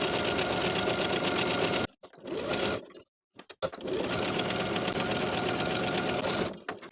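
A close sewing machine edge stitching a linen shorts tie belt whirs in loud, fast runs, with two short stops and a brief silence midway before stitching resumes.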